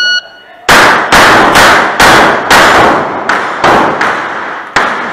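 Glock pistol fired repeatedly at a steel challenge shooting match at the Wyoming Antelope Club, about eight loud sharp shots in an irregular quick sequence, close to the listener, each with a short echoing decay.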